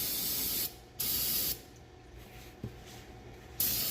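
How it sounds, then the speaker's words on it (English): Three short bursts of aerosol spray hiss loudly onto a truck's AC compressor, separated by quieter pauses filled with faint background noise. "Spray a little bit up there on that AC compressor."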